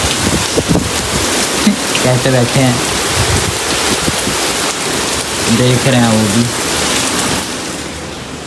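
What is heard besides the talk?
heavy rain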